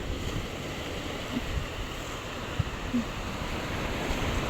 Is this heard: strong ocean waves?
yes